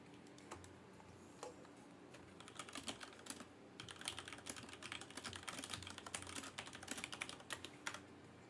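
Rapid typing on a computer keyboard during a Rise of Kingdoms game session, with irregular bursts of close, crisp key clicks that grow denser and louder toward the end.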